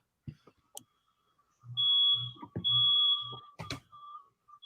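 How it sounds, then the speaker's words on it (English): An alarm sounds somewhere inside a building, sustained high electronic tones in two long bursts with pulsing low buzzes underneath, plus a few sharp clicks and knocks nearby, moderately loud and without speech. "Sounded like an alarm was going off somewhere in my building."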